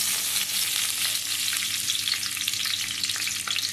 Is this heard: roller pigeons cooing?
no